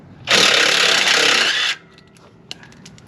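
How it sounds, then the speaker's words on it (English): A DeWalt 1/4 inch cordless ratchet whirs loudly and steadily for about a second and a half during 2003 Ford F150 power steering pump work, then cuts off, followed by a few faint clicks. "I'm just using a DeWalt 1/4 inch ratchet"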